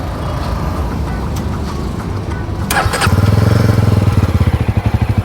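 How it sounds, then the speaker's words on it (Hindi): A 2024 Yezdi Roadster with a 334cc single-cylinder BS6 engine is started up close: a whirring crank, a catch, then a loud, steady thumping idle. "जस्ट अभी हम स्टार्ट करते हैं।"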